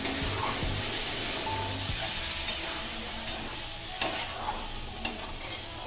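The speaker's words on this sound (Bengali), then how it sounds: "আমি টক দইটা এবার দিয়ে দেব দিয়ে এবার এটাকে নেড়ে চেড়ে নেব" Paneer curry being stirred in a pan just after sour yogurt goes in, with steady frying sizzle, repeated scraping strokes and a few sharp spoon clinks near the end.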